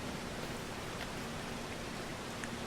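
Steady rain falls in the Farming Simulator 25 video game, a dense and even hiss with no breaks and no voices.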